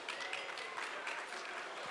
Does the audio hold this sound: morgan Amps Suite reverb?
no